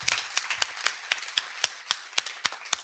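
A small audience at a healthcare symposium claps for the panelists, with sparse, distinct handclaps ringing out at a steady pace, fairly close and moderately loud.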